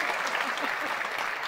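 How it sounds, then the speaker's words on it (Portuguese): Studio audience applause for a mother on a Brazilian comedy show, a steady, dense burst of clapping heard close and at even volume throughout. "Palmas pra mãe"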